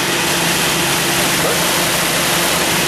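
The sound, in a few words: Jeep Scrambler fuel-injected engine idling high when cold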